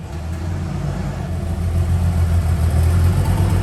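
Carbureted six-cylinder engine of a turbocharged Chevrolet Caravan running steadily after starting, a loud, deep idle rumble that builds slightly in the second half, with no talk over it.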